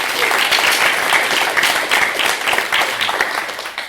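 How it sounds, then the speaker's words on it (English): A conference audience claps loudly for the sponsors at the closing session, with steady, dense applause filling the whole stretch and no speech. "Let's give them a round of applause one more time."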